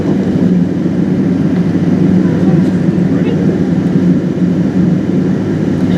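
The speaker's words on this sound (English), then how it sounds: "ready for takeoff. On runway 27 left." A British Airways Boeing 777-200ER takes off on runway 27L at London Heathrow, its engines making a loud, steady roar throughout, with a deep rumble heard from inside the cabin.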